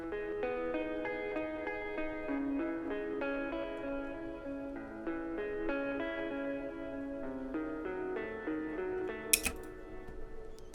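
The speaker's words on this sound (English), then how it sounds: "we put a guitar rig on arpeggio delays as well as a reverb." A guitar melody treated with EQ, Guitar Rig arpeggio delays and reverb plays as a flowing stream of echoing notes that smear into an ambient wash, with one sharp click near the end.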